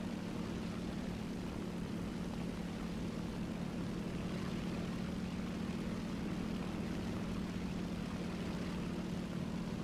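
A damaged A7M2 Reppu propeller fighter in War Thunder flies on with much of one wing missing. Its engine holds a steady, droning hum with a low tonal note for the full stretch, with no talk.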